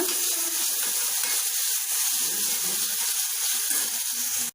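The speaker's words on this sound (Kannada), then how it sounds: "ಒನ್ ಟೊಮೆಟೊ ಇದನ್ನು ಅಷ್ಟೇ ಚೆನ್ನಾಗಿ ಫ್ರೈ ಮಾಡ್ಕೊಳ್ಳೋಣ" Onion and tomato fry in a pan, giving a steady, close sizzle with soft crackles throughout.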